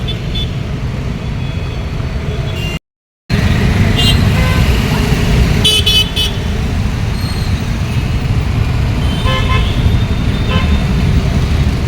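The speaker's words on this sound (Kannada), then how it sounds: "ಎಷ್ಟೊಂದು ಟ್ರಾಫಿಕ್ ಆಗೈತೆ ನೋಡಿ" Busy evening road traffic at a bus stop, a loud, steady roar of cars, buses and trucks with several short horn toots, a brief dropout early on.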